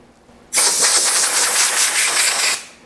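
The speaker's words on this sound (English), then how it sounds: "I'll get the air nozzle, get the air hose." Compressed air blasting from an air hose nozzle in a workshop during a Sidney lathe restoration, a loud, steady hiss that starts abruptly, holds for about two seconds, then tapers off.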